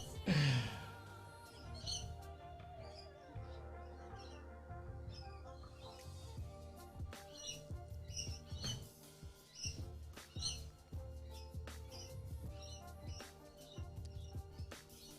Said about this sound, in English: it was definitely the bird